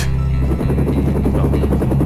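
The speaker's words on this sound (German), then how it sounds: "Jo, Hubschrauber" Helicopter in the video game 007 Tomorrow Never Dies, a loud, continuous rotor drone with a steady pulsing chop that fills the whole moment without any talk.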